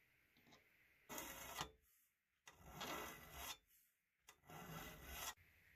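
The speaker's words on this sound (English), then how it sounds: "I also have this triangular file for sharpening the teeth." A triangular file rasps across crosscut saw teeth in three separate strokes of a second or so each, close and fairly quiet, with short pauses between them.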